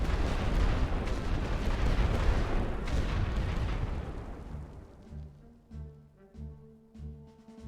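Two light artillery barrages from The Great War Western Front strategy game roar as a dense, loud rumble of blasts for about five seconds, then thin into scattered, spaced booming impacts with lower-pitched tonal thuds.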